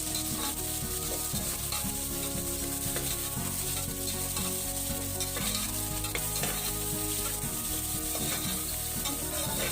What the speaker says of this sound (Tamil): உருளைக்கிழங்கை சேர்த்து நல்லா வதக்கிக்கணும்.